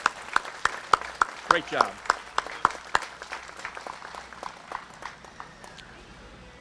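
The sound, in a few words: audience applause for Noah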